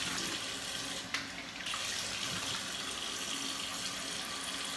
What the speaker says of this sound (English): we'll go ahead and rinse this face off real quick